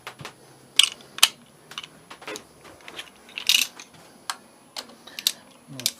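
A ratchet turns a 17mm socket on a Suzuki V-Strom 250 engine, with irregular quick clicks and metallic taps, close and fairly quiet, with pauses between bursts.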